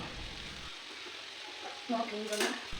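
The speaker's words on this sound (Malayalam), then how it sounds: "നമുക്കിനി ഇതെല്ലാം കൂടി ഒന്ന് നന്നായിട്ട് ഇളക്കി യോജിപ്പിക്കാം." Vegetable Hakka noodles stirred and tossed in a hot pan, a steady close sizzle with scraping and a few clinks of the utensil near the end.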